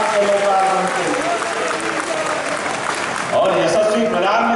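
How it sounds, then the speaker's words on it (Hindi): A crowd applauds at the inauguration of a Balaji Hanuman temple in Delanpur, Nagda. The clapping is loud, dense and continuous throughout, with a voice over it. "जोरदार अभिनंदन करें ताली बजा करके इस धाम के लोकार्पण के लिए"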